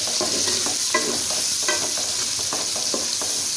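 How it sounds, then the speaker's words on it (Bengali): Capsicum frying in a hot pan for homemade mixed fried rice, stirred with a spatula, making a loud, dense sizzle broken by regular scraping strokes about every half second, close up and with no talking. "দিয়ে এটাকে আমি একটু নাড়াচাড়া করবো"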